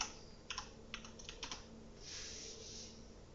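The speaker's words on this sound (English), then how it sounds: "I'm just going to type here telephone." Short bursts of clicking keystrokes on a computer keyboard, a few quick clusters followed by a softer sustained rustle, close and quiet with no talking.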